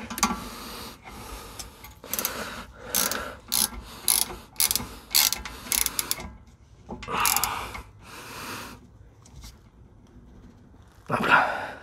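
Ratcheting clicks and metallic tool sounds from a torque wrench tightening bolts on a Seat Leon TDI 150 during a rear wheel bearing change, in repeated bursts of close, fairly loud ratchet strokes with short pauses between them.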